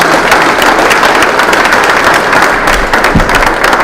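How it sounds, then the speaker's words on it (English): A community audience at a public discussion on policing in Rochester, Minnesota, applauds its panelists, a dense, loud and continuous roar of many hands clapping close by that keeps going without a break. "please give our panelists and yourselves a round of applause for being a great community audience"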